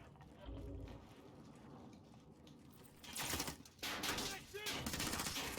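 Gunfire in the Warzone video game, bursts of rapid automatic shots rising in the second half, loud and dense over a busy game background with quiet in-game noise before.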